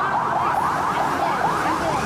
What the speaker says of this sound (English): Nope, it's the ambulance.